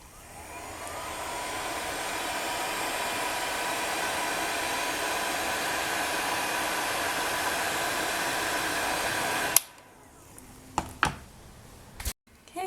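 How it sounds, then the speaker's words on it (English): A heat gun on its hottest setting, a steady loud blowing rush lasting about nine seconds before cutting off abruptly, followed by a few sharp clicks and knocks. "Then I'm going to bring over my heat gun. It's on the hottest setting"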